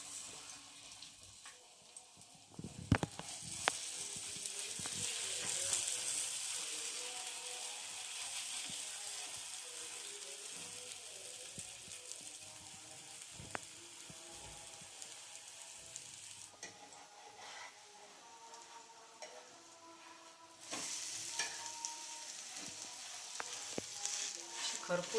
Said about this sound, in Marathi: तव्यावर तेल टाकलं आहे थोडंसं, आणि आपण हे आता पोळा टाकतो.